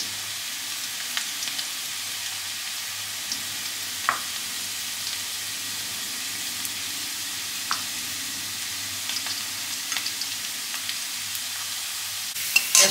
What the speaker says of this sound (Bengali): এবারে আমি পেঁয়াজ কুচানোগুলো দিচ্ছি।